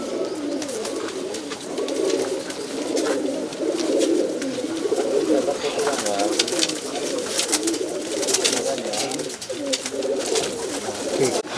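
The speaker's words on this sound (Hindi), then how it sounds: "बहुत ही ज़्यादा क्वालिटी का कबूतर।" A flock of high-quality racing pigeons coos continuously in a home loft, a dense, rolling murmur that stays close and steady, with faint clicks and stray calls layered over it.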